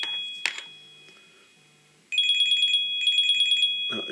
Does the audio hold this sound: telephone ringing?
yes